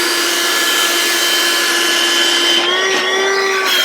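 A handheld cordless vacuum cleaner runs steadily with a loud, close, high-pitched motor whine that holds constant, its pitch shifting slightly near the end.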